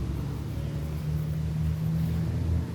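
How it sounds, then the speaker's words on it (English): Truck passes by a muddy creek after overnight rain, a low engine rumble and hum that stays fairly even and builds slightly over a few seconds, moderately loud, with no voices. "there goes the truck"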